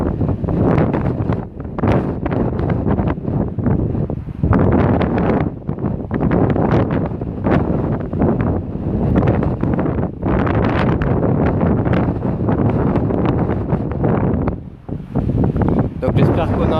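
Strong wind buffets the microphone in loud, rumbling gusts in the Corbières hills of the Aude, with a voice talking underneath throughout.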